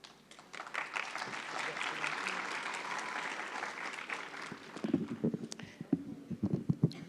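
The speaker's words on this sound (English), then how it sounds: "I'm going to request the audience to only applaud after each group" Graduation audience at the Cornerstone Institute ceremony bursts into sustained applause that fills the hall, then trails off into scattered claps and murmurs.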